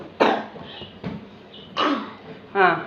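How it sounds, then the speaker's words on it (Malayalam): Several rough coughs in a row, spaced apart, fairly close and clear with no talking. "ഇടയ്ക്ക് ഓരോ ചുമയൊക്കെ ഉണ്ട്."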